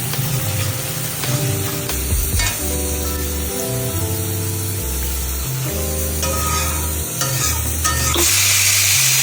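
Pabda fish and spices of ginger-garlic, turmeric, cumin, coriander and red chili powder fry in a pan with a loud, continuous sizzle and bubbling, while scraping and stirring clatter comes in bursts through the clip.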